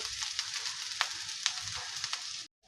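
Vegetables dry-frying in a pan give a steady, close sizzle with scattered sharp pops and crackles, then cut off abruptly near the end, with no voices.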